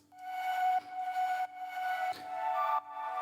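A high-register cello drone layer holds steady sustained tones with bright overtones, a constant low hum beneath, and brief dips in loudness where notes change, all without any voices.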